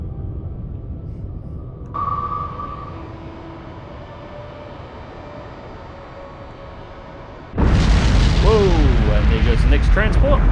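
Submarine counter-firing at a torpedo in the naval video game Cold Waters: a low rumbling background with a faint tone, then a sudden loud roaring launch blast that sustains to the end.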